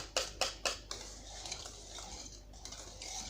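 Spoon or whisk stirring cream with butter in a pot for a Turkish dessert, with three sharp metallic clinks against the pot at the start followed by a softer, continuous scraping and swirling, close and fairly quiet.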